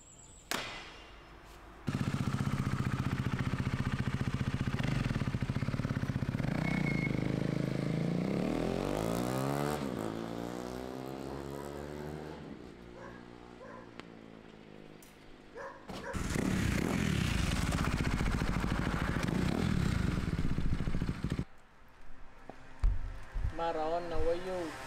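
A Husqvarna Svartpilen 401 motorcycle engine idles, then revs up and down several times with sweeping pitch, later cutting to loud bursts of running and short throttle blips.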